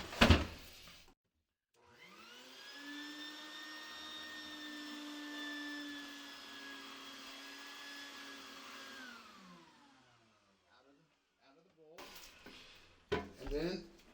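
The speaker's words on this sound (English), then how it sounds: "So next, plug in the vacuum." A wet vacuum whines steadily for several seconds sucking water from a toilet tank and bowl, its motor pitch falling as it shuts off, with clattering handling noises before and after.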